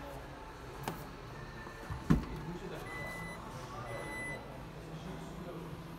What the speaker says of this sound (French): on va vous faire écouter le son quand on ouvre le coffre